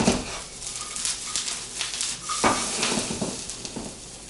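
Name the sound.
onions cooking and being stirred in a pan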